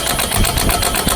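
A fully charged Milwaukee M18 FMTIWF12 mid-torque impact wrench on its first setting (130 Nm, 510 RPM) gives a loud, steady buzzing, rattling whir that runs unbroken through the whole short burst.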